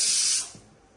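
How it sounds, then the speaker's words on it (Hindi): A kitchen pressure cooker whistles as it vents steam, a loud, close, rushing hiss that holds for under half a second and then cuts off into quiet room tone. "एकदम मैं आई कुकर सीटी मार दी।"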